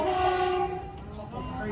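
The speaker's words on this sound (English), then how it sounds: "Now approaching Blackheath Level Crossing, listen out for the train horn." A train sounds its horn at the Blackheath level crossing: a loud, rich, sustained horn blast that cuts off partway, followed by a second, quieter horn note and rail rumble.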